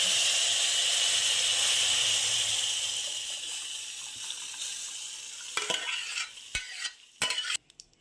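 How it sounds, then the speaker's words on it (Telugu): Toor dal poured into a hot tempering with curry leaves in a pan gives a loud, hissing sizzle that gradually dies down, followed by several sharp scraping knocks of a spoon stirring against the pan. "ఇందు పోపులోకి పప్పును వేసుకొని ఒక ఫైవ్ మినిట్స్ వరకు దీన్ని వేడి ఉడికించుకుందాం"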